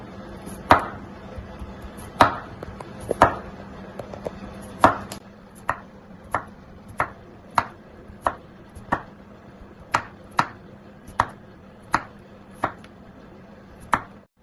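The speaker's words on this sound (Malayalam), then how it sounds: "സലാഡിന്റെ രൂപത്തിൽ നമുക്ക് അരിയാം." A knife chops onion, tomato and green chilli for a salad on a board, a steady run of about eighteen crisp, close taps, spaced irregularly at first and then settling into an even rhythm, with no voices.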